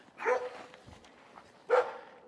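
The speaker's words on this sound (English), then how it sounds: "And the dogs are excited." Two excited dogs bark in two sharp bursts a little over a second apart, close by, with quieter movement and rustling between them.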